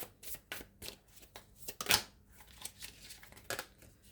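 Tarot cards shuffled and drawn by hand, a quick series of close riffling snaps and one louder burst of card flutter near the middle, with no voice over it.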